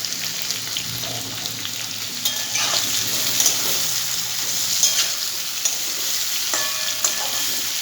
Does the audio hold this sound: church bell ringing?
no